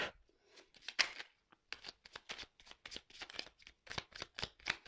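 Oracle cards being shuffled by hand in a long run of quick papery riffles and slaps, close and fairly quiet, with no talking.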